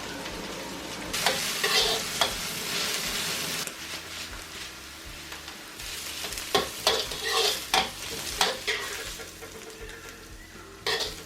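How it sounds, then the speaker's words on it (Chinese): Boiled green vegetables being stir-fried in a wok, with a continuous hiss of frying and repeated loud scraping strokes of the spatula in uneven bursts, close by. "这青菜因为是煮熟的哈，把它炒入味就可以了"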